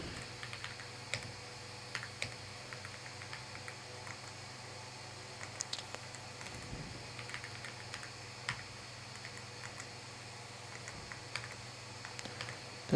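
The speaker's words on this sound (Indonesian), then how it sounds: "nanti kita akan coba lagi ketikkan code image" A computer keyboard clicks with soft, irregular keystrokes while code is typed, quiet and close, with brief pauses between bursts.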